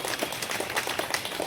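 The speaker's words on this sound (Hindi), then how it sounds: "दोनों हाथ उठा के जोरदार ढंग से ताली बजा के हमारे मंच का स्वागत करें" A large outdoor crowd at a Sardar Patel 150th birth anniversary gathering in Mahadeva claps steadily to welcome dignitaries onto the stage, a dense continuous patter filling the whole stretch at moderate distance.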